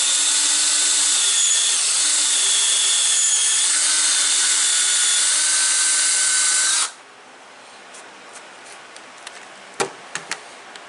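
A power drill bores a hole into a wood board, its steady whine running loud and continuous for about seven seconds before stopping, followed by quiet room tone with a few light knocks and taps.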